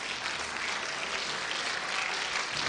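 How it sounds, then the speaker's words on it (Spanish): A church congregation applauding during a sermon service, a dense, continuous burst of clapping from many hands filling the space, steady and moderately loud with no talk. "Puedes darle un aplauso fuerte al Señor."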